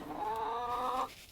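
A hen gives a drawn-out, wavering cluck-like call, close by and fairly quiet, fading after about a second.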